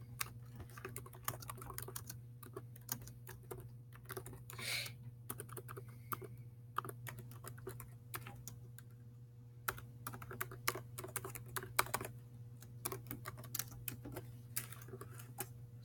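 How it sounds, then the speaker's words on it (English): Rapid typing on a computer keyboard, a steady stream of clicks and key taps over a low constant hum, close and moderately loud. "I just be typing so fast"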